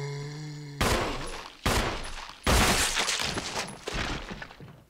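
Several loud, sharp bursts of gunfire in Resident Evil HD Remastered in quick succession, each blast decaying briefly before the next, with no talking.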